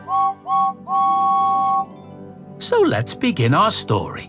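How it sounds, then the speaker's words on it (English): James, the proud number 5 red engine from Thomas & Friends, sounds his whistle in three clear tooting blasts, two short and one long, followed by a narrator's voice speaking. "he has a whistle that sounds like this"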